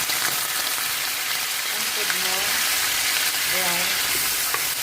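Oil sizzles and crackles steadily in a hot pan while pinakbet, a Filipino vegetable dish, starts cooking, with a few soft voices speaking briefly over the continuous frying hiss.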